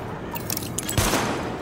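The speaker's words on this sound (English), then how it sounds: "Open fire at the highlighted targets." Sidearm fire at highlighted targets in the video game Tom Clancy's The Division, a short burst of loud, close pistol shots blending into a noisy wash.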